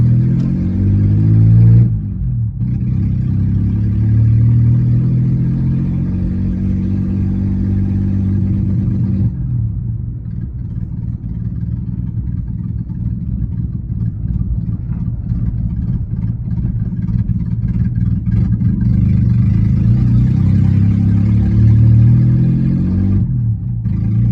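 Geo Metro small car engine running on its first drive after repair, steady low engine drone with rises in revs and dips between gear shifts, close and loud throughout, no talking.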